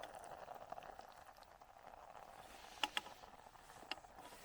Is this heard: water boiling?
yes